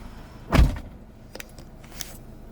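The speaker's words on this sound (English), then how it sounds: "So let me go ahead and shut the door again." A Subaru Crosstrek door is shut once with a firm thud up close, followed by a few faint clicks and light mechanical ticks in a quiet cabin.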